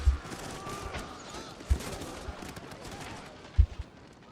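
Scattered musket gunshots in Total War: Shogun 2 crack out in a few sharp bursts over a low rumbling battle din, distant and fairly faint, with muffled voices in the background.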